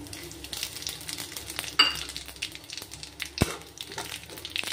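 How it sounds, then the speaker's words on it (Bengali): Dried red chillies and five-spice seeds tempering in hot oil in a pan, giving a steady close sizzle and crackle with a few sharp pops and faint utensil clinks, no talking. "তেলটা গরম হয়ে গেছে, শুকনো লঙ্কা ফোড়ন দিলাম, আর দেব হলো 5 ফোড়ন।"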